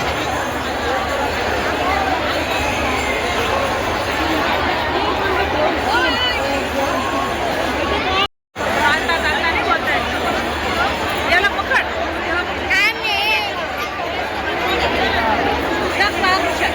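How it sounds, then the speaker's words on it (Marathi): Huge crowd of devotees leaving a Shiv Mahapuran katha in Shirdi, a dense continuous hubbub of chatter and footsteps throughout, with a brief cut partway through. "प्रचंड अशी गर्दी."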